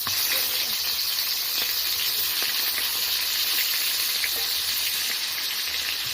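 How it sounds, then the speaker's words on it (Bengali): A fish head fries in hot oil, likely for a banana flower dish, giving a loud, constant, close-up hissing sizzle that never lets up. "মাছের মুড়ো দিতে হবে, মাছের মুড়ো ভাজতে হবে"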